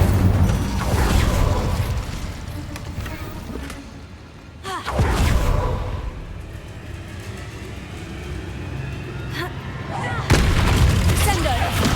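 In Hogwarts Legacy, Incendio fire spells go off as three loud booming blasts spaced several seconds apart. Each is followed by a roaring, crackling rush of game combat noise, with a voice heard underneath.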